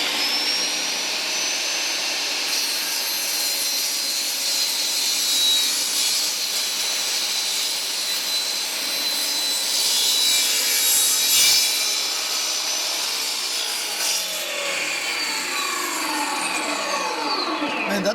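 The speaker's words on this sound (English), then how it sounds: "So now we're trimming the two other side pieces to the correct length." A power saw blade cuts wooden side pieces to length for handmade Christmas gift boxes, a steady high whine running continuously throughout, close and loud, with a few brief surges as the cut progresses.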